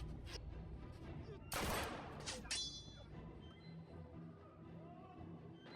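Pistol gunfire during a fight scene, a loud sharp burst of shots around the middle with a ringing tail, set against constant background noise and voices.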